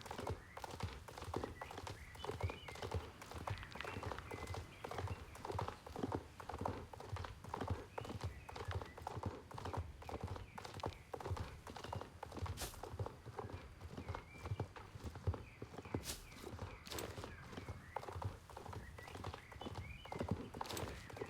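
Horse hooves clip-clop steadily and evenly in the online riding game Star Stable Online, a continuous loud trotting rhythm with a faint whinny or two mixed into the ambient game soundscape.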